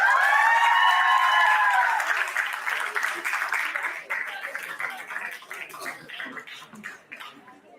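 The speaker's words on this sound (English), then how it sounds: "A huge round of applause for Bhumika and Rajkumar." An audience at a dental sciences conference hall breaks into sustained applause and some cheering that starts loud and full, then slowly thins out over several seconds.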